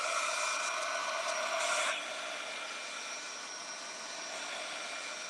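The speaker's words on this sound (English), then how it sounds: "let me get my heat tool, and I'm going to heat it a little bit more because I want this to dry." Heat tool blowing hot air onto shrink plastic for a keychain craft, a steady, moderately loud close whoosh that drops to a quieter hum partway through, with no voices.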